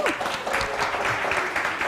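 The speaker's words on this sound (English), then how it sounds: "please, a big round of applause to all of them" An audience at a startup demo day claps steadily in a dense burst of applause that stays even for the short stretch, moderately close, with no voices standing out.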